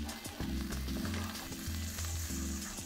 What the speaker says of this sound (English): Okay, now we want to add our garlic.